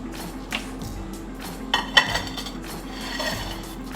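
Ceramic serving plates clink and knock a few times while a kale and chicken salad is served; the contact sounds are faint and close, and there is no talking.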